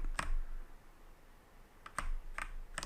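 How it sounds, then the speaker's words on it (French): Computer keyboard arrow keys pressed to move and jump a character in a platformer game, a few sharp, quiet clicks: one early tap, a pause, then three spaced presses close to the microphone. "je peux me déplacer avec les flèches de mon clavier, et sauter avec la flèche du haut"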